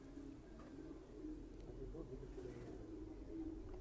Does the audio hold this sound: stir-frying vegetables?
no